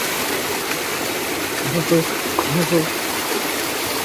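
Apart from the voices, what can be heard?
water running from a spout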